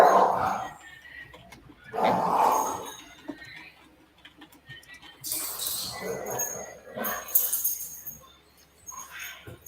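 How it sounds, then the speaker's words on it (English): Several dogs barking indoors in bursts behind an online tabletop role-playing session, loud yelps and barks recurring across the clip with quieter gaps between them. "you can hear my dogs"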